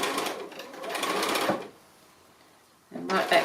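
Sewing machine stitching a small flanged pin cushion, running in a steady close whir for about a second and a half, pausing, then starting up again.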